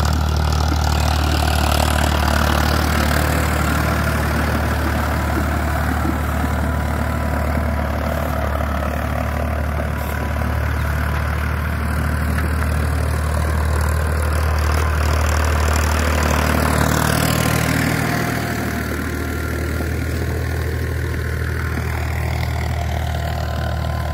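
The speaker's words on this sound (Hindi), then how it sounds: "रवा करने लग रहे हैं अपने ट्रैक्टर को फार्म ट्रैक साठ पावर मैक्स" A new Farmtrac 60 PowerMaxx diesel tractor engine running loud and close, a deep continuous rumble that swells and eases slightly as it revs, with no talking.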